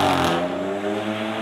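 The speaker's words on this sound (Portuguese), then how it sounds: "Volkswagen. Novamente aí o Jetta GLI." A Volkswagen Jetta GLI passing by on a city avenue, a loud, close engine hum with steady droning tones that eases slightly as the car moves on, with no talk.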